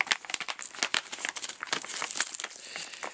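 Resealable Mylar bag holding a survival tin being handled and pulled open by its tear tabs, giving close, steady crinkling and crackling rustles with sharp snaps throughout and no speech.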